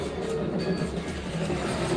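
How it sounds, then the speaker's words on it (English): A steady low rumbling and rattling of an amusement-park ride train rolling along at Disney's Hollywood Studios, continuous with no clear breaks and no voices. "There's the train."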